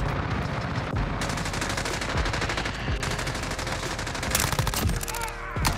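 Rapid automatic gunfire from a weapon in the shooter game Modern Warfare, loud close bursts of fast repeated shots with brief pauses between volleys and no speech over them.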